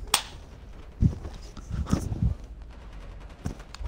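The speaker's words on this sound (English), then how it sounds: "I hear gunshots." Gunfire in a Fortnite firefight, several sharp cracks heard at a moderate distance: one early shot, then a cluster of three or four around the middle and a last shot near the end, with no talking.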